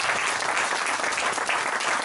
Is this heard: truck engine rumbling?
no